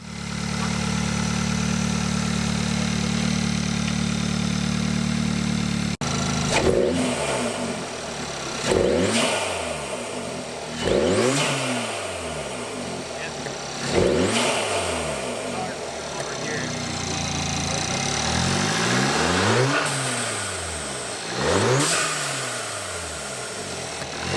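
A modified Audi A3/S3 engine idles with a steady deep rumble, then revs up and drops back repeatedly in several rising-and-falling surges, fairly close.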